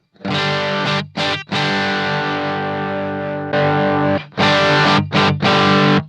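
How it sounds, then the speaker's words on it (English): Distorted electric guitar chords on the bridge pickup ring through a Bluguitar Amp1 Mercury Edition on the vintage channel, master all the way up, several sustained strums separated by short gaps and quick stabs, loud and close. "let's check that against the vintage channel with the master all the way up"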